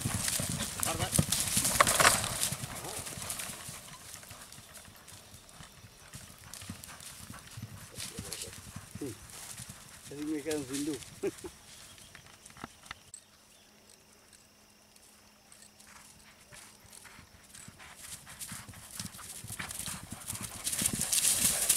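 A tamed overo ranch horse trained for cattle work clip-clops over the ground at a steady walk, the hoofbeats fairly close, while someone talks over much of it and a brief whinny-like call comes partway through.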